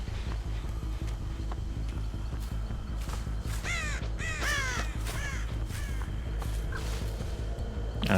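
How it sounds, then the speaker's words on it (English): A crow caws several times in harsh repeated calls, mid-distance, over a steady low rumbling background with faint clopping sounds, in the video game Dead by Daylight. "I can hear that crow"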